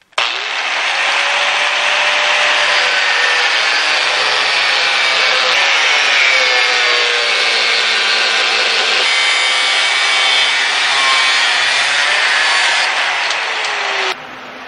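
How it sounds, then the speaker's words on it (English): An angle grinder cuts through aluminum with a loud, steady high-pitched whine and grinding rasp that holds for about fourteen seconds, its pitch wavering slightly as the disc bites, then drops off abruptly at the end. "So let's get started with the angle grinding."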